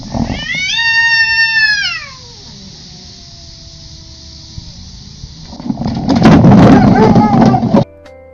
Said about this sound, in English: This cat was in trouble and yelled for backup from her big brother.